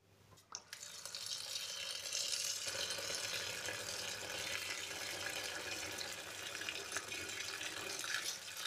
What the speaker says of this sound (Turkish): İyice leğenin dibinde toz kalmayacak şekilde 5-6 kere yıkıyoruz. Bol suyla.